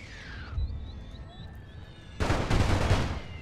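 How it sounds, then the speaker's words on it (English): Side cannons firing from warships in The Great War mod game: a broadband boom-and-rumble burst enters about two-thirds through and rolls on loudly to the end, after a quieter stretch of thin whistling tones. "He's gonna fire with the side cannons."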